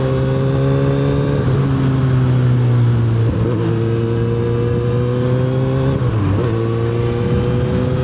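A Kawasaki Z900RS motorcycle's steady engine drone on a rural road at Doña Remedios Trinidad. The pitch dips twice as another vehicle goes by, loud and close, with no talk.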